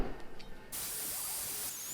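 Spray paint can spraying an alternator bracket from a 3000GT VR4 engine: a couple of soft rattles and hisses, then a steady, loud, close hiss that runs to the end.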